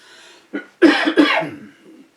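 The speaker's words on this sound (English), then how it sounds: "I was about to cough" A few sharp, close coughs in quick succession, the middle two loud and harsh, trailing off into a softer breath.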